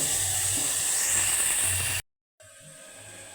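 Ground tomato paste hits sautéed onions in a hot pan, producing a loud, steady steaming sizzle that cuts out abruptly, then returns as a quieter simmering hiss.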